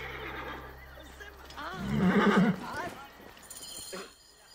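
A horse in the video game Assassin's Creed Origins gives a loud whinnying neigh over a steady low rumble, with clopping hooves and a voice speaking around it.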